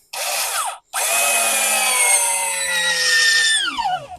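A Makita 6010D cordless drill drives a countersunk screw with a close, loud whirring whine. It stops briefly, restarts and runs steadily under load, then winds down as the screw seats.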